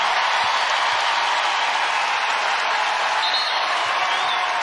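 A basketball crowd at the Pete Maravich Assembly Center during an LSU women's NCAA first-round game against Rice roars and applauds in a dense, continuous, loud wash of cheering with no pause.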